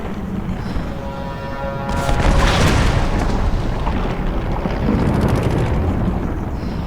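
A plane crashing in a Tomb Raider video game: a heavy booming crash bursts out after a couple of seconds and rolls into a sustained, roaring rumble over a dense, noisy game soundscape.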